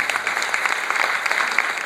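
Audience at an inter-school PowerPoint presentation competition clapping to welcome the participating schools, dense continuous applause at moderate loudness with no voices over it.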